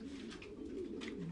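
Belgian racing pigeons coo in a loft, low rolling throaty calls repeating close by over a soft background hum, with no talking.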